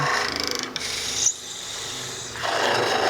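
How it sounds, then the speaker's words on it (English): A tool scrapes inside the hole of a small spalted beech vase turning on a lathe, a close rasping with fast rhythmic pulses at first, a pause, then renewed steady scraping. "scrape along the side of the wall to make your hole a bit wider"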